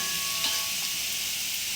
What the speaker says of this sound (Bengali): ফ্রাইড রাইসে গাজর ভাজা হচ্ছে